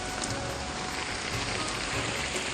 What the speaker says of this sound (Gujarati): બહુ ભારે વરસાદ પડે છે.